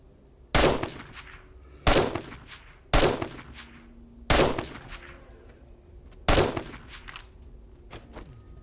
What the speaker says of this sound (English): Don't dodge when I'm trying to shoot you with a shotgun